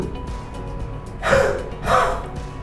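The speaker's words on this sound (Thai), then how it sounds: "การหายใจออกอย่างแรง โดยหายใจเข้าลึกๆ โน้มตัวมาข้างหน้าเล็กน้อย แล้วถอนหายใจออกทางปากยาวๆแรงๆ" Two forceful breaths pushed out through the mouth as a COPD breathing exercise, each a loud, breathy burst lasting about a quarter second, spaced about half a second apart and heard alone over a faint background.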